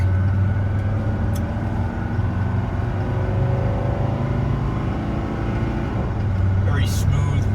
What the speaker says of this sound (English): Very smooth running and driving car.